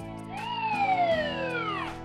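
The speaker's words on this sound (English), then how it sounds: "That siren is a sound no one wants to hear." A single siren tone sweeps upward and then slowly falls in one long wail, standing clear of any talk.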